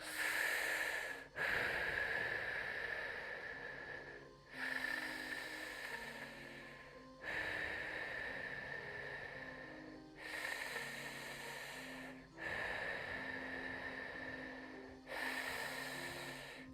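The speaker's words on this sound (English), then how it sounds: "So just go ahead and start breathing in and out equally on a normal pace." A person breathes in and out during a guided breathwork session. Long, even breaths repeat at a steady, unhurried pace, close and clear, with no talking.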